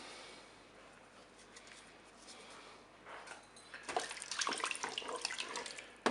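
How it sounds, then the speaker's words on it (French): Water poured over rice, cod, chicken and other ingredients in a Cookeo pot, a faint hiss at first that swells into a fuller, splashing pour over the last few seconds. "Je vais verser de l'eau pour recouvrir les ingrédients"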